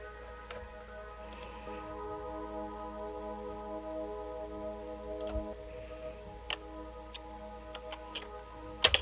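A washed-out, vintage-style Prophet synth patch plays without sidechain pumping: a steady, sustained chord drones throughout, with faint ticking clicks scattered over it and no voices.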